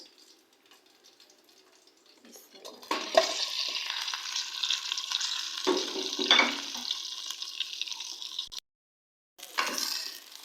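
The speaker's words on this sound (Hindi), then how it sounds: "अब मैं इसे 1 मिनट मिक्स करूंगी इसमें।" Roasted chicken being stirred in a karahi with black pepper, a close sizzling fry with scraping spoon strokes that start after a quiet moment and run steadily, briefly cutting out before resuming.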